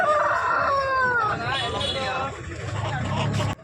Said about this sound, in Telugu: ఇక్కడ కూడా ఒక పుంజు ఉంది